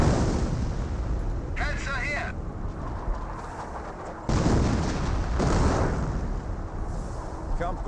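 Artillery pieces fire in the World War II strategy game Company of Heroes, with repeated booming blasts and rumbling impacts under a steady battle din, while someone talks throughout.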